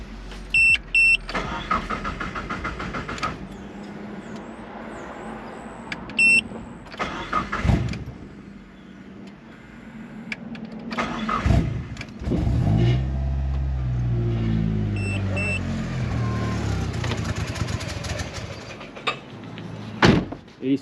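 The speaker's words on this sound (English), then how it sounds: "we're gonna go ahead and start up the car to make sure that everything" A car in a workshop cranks and its engine starts up, then idles with a low rumble, amid door thuds, clicks and other shop noises at close range.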